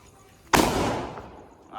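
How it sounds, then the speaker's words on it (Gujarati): After a quiet moment, one sharp chilli bomb firecracker bang bursts loudly and rings out in a fading echo. "મરચી બોમ્બ ફોડવાનું ચાલુ કરી દીધા"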